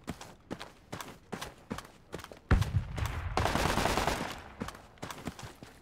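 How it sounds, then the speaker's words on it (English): Close-range enemy gunfire in Project Reality, with sharp single shots at a steady rhythm, then a loud burst and dense rattling fire before the single cracks return. "There's enemies shooting me close."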